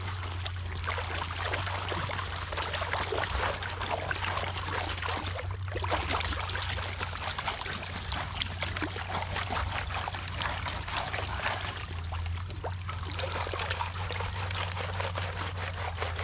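Placer gold panning in a shallow slough, with water sloshing and trickling continuously as the pan is worked, close and fairly loud, broken by brief pauses and no speech.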